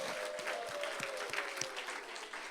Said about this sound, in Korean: 주님 새해를 주신 주님께 한번 감사의 박수를 드립시다.